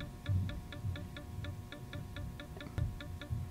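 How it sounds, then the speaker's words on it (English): On an iPad, VoiceOver marks a touch on an empty screen area with a faint, steady ticking pattern of quick light clicks repeating in an even rhythm over low background noise. "Whenever you're touching an empty area, you will hear a sound like this."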